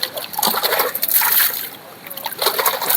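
Water splashes and sloshes close by as a cut-open container is rinsed out to hold clean drinking water for sparrows, in uneven bursts of splatter and trickle with a brief lull in the middle.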